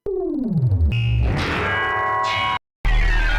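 Heavy distorted tearout dubstep bass synth growls and sweeps, gritty and metallic with a noisy edge, cutting out briefly before a final loud burst.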